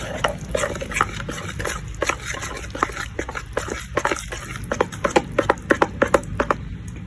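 Mango pulp cake batter being stirred by hand in a bowl, with soft repeated scraping and wet sloshing strokes in a steady, close rhythm, quickening toward the end.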